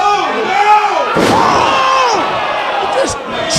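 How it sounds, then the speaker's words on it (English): A wrestler is chokeslammed off the top rope during a GCW match, landing with one heavy crashing slam amid crowd noise, with a commentator's voice talking over the action. "He just choke slammed him off the top rope"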